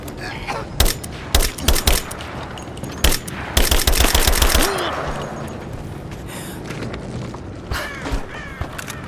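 Bursts of automatic gunfire crack in rapid clusters during a firefight in Rise of the Tomb Raider, loud and close for the first few seconds before easing into a quieter stretch with a few scattered shots and faint voices.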